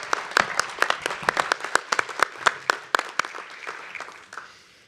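Scattered applause from a small audience at a winter meeting plenary session on food and agriculture: distinct individual hand claps in an uneven rhythm, close and fairly loud, thinning out and fading away toward the end.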